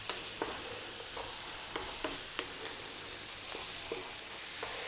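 Whole spices with cumin fry over medium-high heat in a pan, giving a faint, steady sizzle broken by scattered light clicks and scrapes from frequent stirring.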